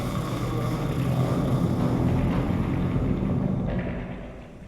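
A furnace rumbles in The Suicide of Rachel Foster video game, a dense, steady low roar with a churning texture that fades slightly at the end, heard alone without talking.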